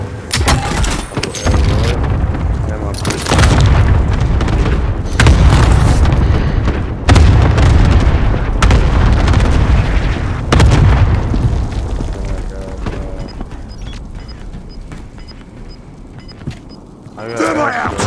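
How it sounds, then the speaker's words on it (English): Precision airstrike explosions in Call of Duty: Modern Warfare land as a series of heavy, booming blasts, several loud deep impacts in quick succession, with a radio voice and other talk heard over them. "Be advised, friendly precision airstrike inbound."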